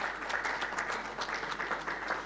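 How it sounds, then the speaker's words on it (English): Steady round of applause from a conference audience at a national health conference, dense and even throughout, moderately distant and fairly quiet, with no voices over it. "Can you give him a round of applause?"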